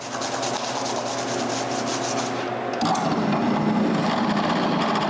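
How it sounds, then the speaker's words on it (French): Steady scrubbing of lithographic photo prints with a toothbrush, shampoo and water, a continuous close brushing rasp that thickens slightly partway through, with no voices. "Et je frotte encore avec la brosse à dents."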